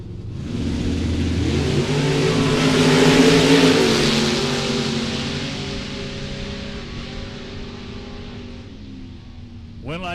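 Drag race cars, one a Camaro, launching down the strip at a Super Pro bracket race: a loud, sustained engine roar that swells and then slowly fades as the cars pull away, with a faint voice beneath.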